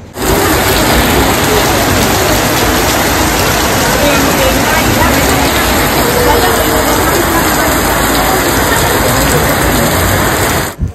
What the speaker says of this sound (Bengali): তখন কি ঝমঝমিয়ে বৃষ্টি দেখো